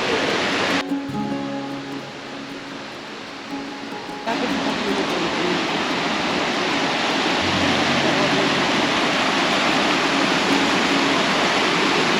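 A small, low waterfall tumbling over rocky ground in the Carpathian mountains gives a steady, broad rush of falling water that fills the whole clip, loud and continuous, with a voice talking briefly over it near the start.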